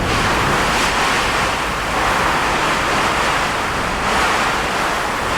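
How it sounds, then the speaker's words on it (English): Strong wind blows against a barn, making a loud, steady broadband roar that swells gently in a couple of gusts, with no voices. "That's some wind now. The walls are moving on the barn"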